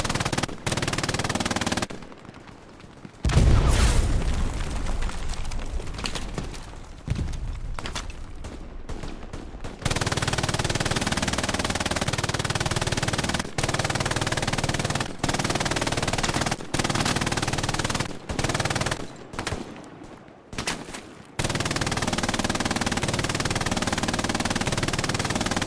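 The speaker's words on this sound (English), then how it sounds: "Teddy Terror up in the top with the MG42." Sustained MG42 machine gun fire in a World War II game match on Omaha beach, long loud continuous bursts broken by brief pauses, with other gunfire around and no talking.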